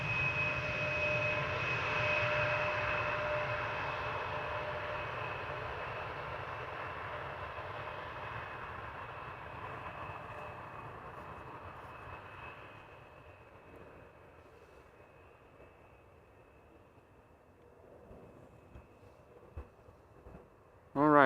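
An Embraer 175 jet airliner arrives at Amsterdam Schiphol Airport, its broad engine roar steady and fairly loud at first, then fading gradually into the distance as it passes away.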